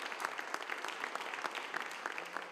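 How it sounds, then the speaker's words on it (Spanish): Inside Teatro El Milagro, a standing audience applauds a stage designer on his 80th birthday, a brief, dense burst of steady clapping from a crowd. "Así, de pie, con aplausos que reconocen la contribución que ha aportado a su gremio"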